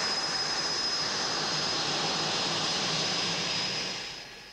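Jet-like roar of a test aircraft taxiing out on the ground, a steady broadband rumble with a constant high whine that holds level and then fades slightly at the end.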